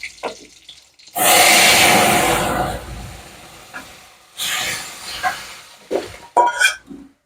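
Dal lentils go into a hot pan of oil tempered with five-spice, setting off a loud burst of sizzling that fades, followed by a few shorter hisses and clatters.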